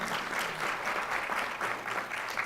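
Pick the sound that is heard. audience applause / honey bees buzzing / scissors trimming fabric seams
audience applause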